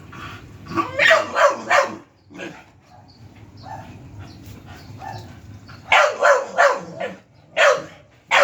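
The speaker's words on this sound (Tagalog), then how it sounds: "Tahol ka ng tahol." A dog barks at a kitten in quick clusters near the microphone, goes quiet for a few seconds with low background noise, then barks again in bursts.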